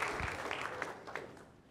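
Church congregation applauding, a brief burst of fairly close clapping that fades out within about two seconds.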